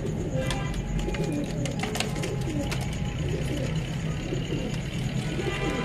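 Pigeons of a pure-bred fancy variety coo repeatedly in soft, rolling bursts close by, with scattered chirps and shuffling noises around them in a busy outdoor setting.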